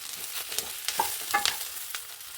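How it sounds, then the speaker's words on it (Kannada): Green chillies fry briefly in a little oil, giving a soft sizzle with a few quick stirring scrapes and taps. "ಮೆಣಸಿನ್ಕಾಯಿನೂ ಇದೇ ಥರ ಒಂದು ಸ್ವಲ್ಪ ಎಣ್ಣೆ ಹಾಕ್ಕೊಂಡು ಹುರ್ಕೊಳ್ಳೋಣ."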